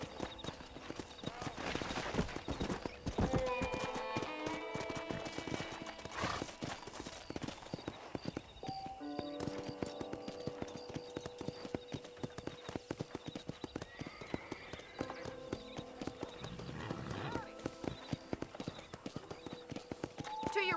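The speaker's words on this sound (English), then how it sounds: "Okay, let's see if you can still ride a horse." Horse hooves clip-clop steadily while riding across a ranch in the Red Dead Redemption video game, with occasional whinnies, a narrator's voice talking over the rhythmic, fairly close hoofbeats.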